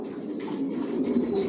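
Racer pigeons of the Johnson long line murmur in a loft in a low continuous coo, soft and close with no speech.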